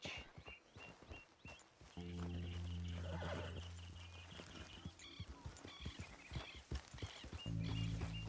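A horse in the Red Dead Redemption 2 video game moves with rhythmic clip-clop hoofbeats and neighs, over game music tones and a voice speaking, moderately close.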